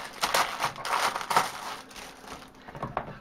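Plastic-wrapped AliExpress iPad case package is torn open, giving a run of crinkling and crushing plastic bursts at close range, with no talk.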